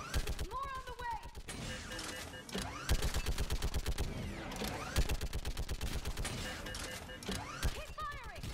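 Gunfire in the video game Mass Effect 3 comes as rapid rhythmic bursts of shots that continue through most of the clip, with game voices calling out between and over the firing.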